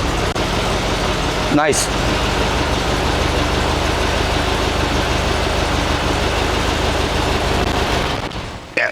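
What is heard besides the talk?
1971 VW Squareback engine starting and idling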